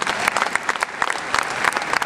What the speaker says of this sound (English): let's give a round of applause to all our clinicians and riders tonight